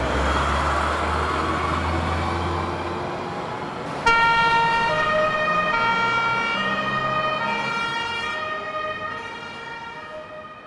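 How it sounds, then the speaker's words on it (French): An ambulance from the Geneva fire and rescue service pulls away with its siren wailing loud and near, the tone swelling from a rumbling engine and then holding steady before slowly fading. "Départ ambulance, transport de blessés suite accident, rue de Bâle"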